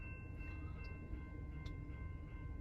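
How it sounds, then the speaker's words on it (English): A train coming down the railroad tracks, heard as a faint, distant low rumble that stays steady and quiet for the whole stretch. "So the train's coming down this way"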